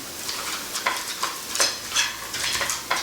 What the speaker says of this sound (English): Salt and pepper. I'm going to mix to combine.